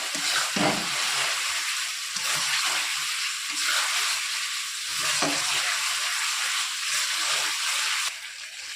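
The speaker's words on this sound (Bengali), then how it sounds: "যতক্ষণ আদা রসুনের গন্ধটা না যাবে ততক্ষণ আমি কষিয়ে নেব।" Ginger garlic paste sautéing in hot oil in a pan, a loud continuous sizzle with occasional spoon scrapes and stirring knocks, close up and without speech.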